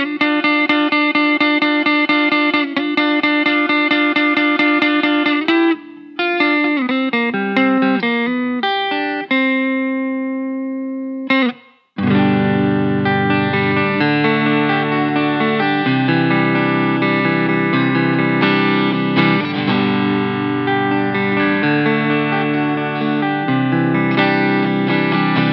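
A clean electric guitar plays ringing single notes and chords, then breaks briefly before returning through a Solid Gold FX JFET Boost clean boost pedal with fuller, thicker, louder strummed chords.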